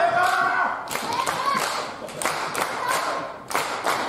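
At a women's pro wrestling match, the crowd claps along to the We Will Rock You beat, loud clustered claps in a rhythmic pattern, with a commentator talking over it.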